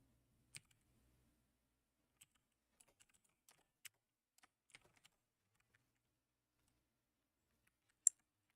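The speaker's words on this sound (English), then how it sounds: "I'm typing in the dark and I can't see the symbols on the." Sparse, quiet keystrokes on a computer keyboard in the dark, scattered irregular clicks with long pauses, ending on one louder tap.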